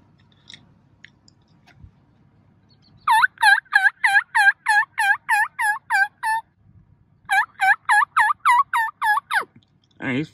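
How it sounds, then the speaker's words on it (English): A wild turkey gobbles in repeated rapid bursts, two long runs of loud, close, rhythmic gobbling calls separated by a short pause, over a quiet outdoor background. "Found our first turkey."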